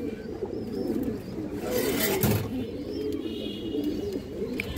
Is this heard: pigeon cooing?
yes